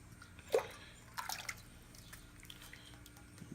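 Hot mash-out water poured from a pan into a homebrew kettle during an all-grain IPA brew day, heard as a few close, faint splashes and drips with a brief louder slosh near the start.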